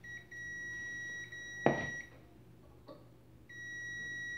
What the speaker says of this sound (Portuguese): No teste de resistência ômica, testamos o magnetron, tem que bipar, presta atenção aí no bip.